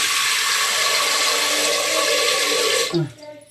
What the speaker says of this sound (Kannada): ಕುಕ್ಕರ್ಗೆ ಸ್ವಲ್ಪ ನೀರು ಇಟ್ಬಿಟ್ಟು